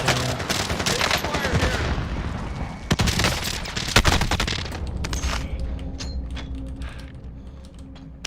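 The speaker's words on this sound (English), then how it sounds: "I'm taking fire" Rapid bursts of gunfire in a battle royale video game: loud, close volleys in the first half, then thinning, scattered shots, with keyboard clatter mixed in.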